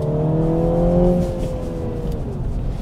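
A 2022 MINI Cooper S manual's engine hums at high revs near 5,000 RPM with the clutch in, then the pitch slowly sinks as the revs fall off, loud and close with a steady rumble underneath.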